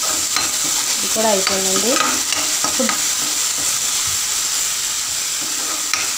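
Mushroom curry sizzles and fries in ghee in a pan while being stirred, a steady close hiss with scraping stirring strokes, and a voice speaking briefly near the start.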